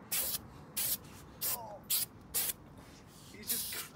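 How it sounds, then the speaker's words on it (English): Spray snow foam hisses out of a can in six short, separate bursts, close and sharp, with quiet gaps between them. "It's like spray snow. Look, it's essentially like foam."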